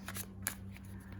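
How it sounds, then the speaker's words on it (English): A deck of cards is shuffled for a reading, giving soft riffling and flicking with a brief sharp snap, quiet and close over a low steady hum, with no talking. "while I'm shuffling the deck"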